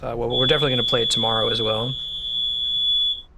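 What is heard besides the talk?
fire alarm beeping during a landlord's test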